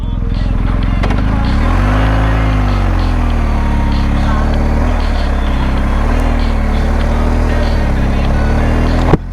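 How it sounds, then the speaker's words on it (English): A BMW R 1250 GS Adventure motorcycle riding along a country road through green landscape, its steady engine drone and low rumble continuous and close, rising and falling slightly with throttle. "Perfect roads for the BMW 1250 GSA, man."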